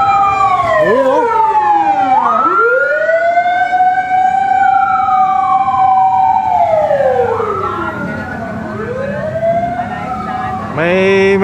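A fire truck's siren sweeps up and down loudly and close, the wailing tones dipping and rising again as the truck passes, with road rumble beneath and a sharp higher blast at the end.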